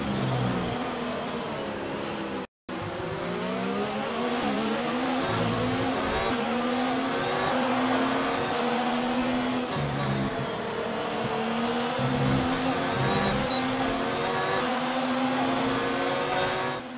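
A Formula 1 car engine in the F1 2019 video game screams continuously at high revs, its pitch rising and falling through gear shifts, with a brief cut early on. Another racing car's engine is also heard, and there is no talk.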